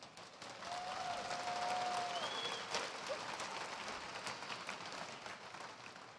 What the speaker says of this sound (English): Can you do a round of applause?